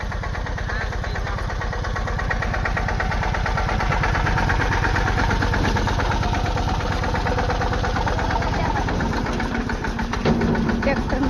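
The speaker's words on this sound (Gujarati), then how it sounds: "ટ્રેક્ટર આવે" A farm tractor engine idles steadily nearby, a continuous throbbing diesel chug with rapid regular pulses throughout, and a voice talks faintly beneath it.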